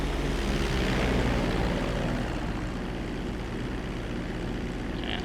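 Jet airliner engines in GTA V roar steadily during climb-out, a broad continuous rumble held at an even level throughout with no talk.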